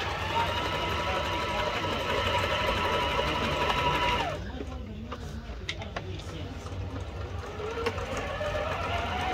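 Singer sewing machine stitching a design, a steady rapid mechanical whir and clatter close by that dips briefly midway and resumes, with a person talking over it.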